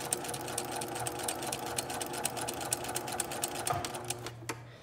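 Sewing machine running a steady long stitch along a princess line bodice seam, with rapid, even mechanical ticking at close range and a brief stop near the end.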